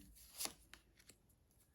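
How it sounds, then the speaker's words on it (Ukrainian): A brief riffle of playing cards being shuffled, followed by a few soft taps, quiet and close. "І знову ці самі карти. Помішала, помішала"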